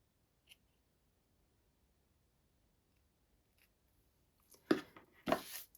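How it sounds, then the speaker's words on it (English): Sharp snips trim the long ribbon tails on a handmade St Patrick's Day card, two quick close cuts near the end after a faint earlier click, with no talking. "grab my snips, and let's see. Oh, those tails are super duper long. Let's trim them down."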